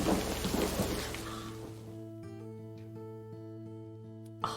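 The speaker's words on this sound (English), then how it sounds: "Oh, the thunderstorm!" Rain and thunder in the video game Lake, a dense hiss of rainfall with a deep rumble fading out after about two seconds, leaving soft musical tones and a brief late crack.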